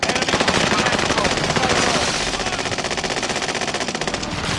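Rapid, continuous machine gun fire in a first-person shooter video game, loud and rhythmic with dense repeating shots filling the whole stretch.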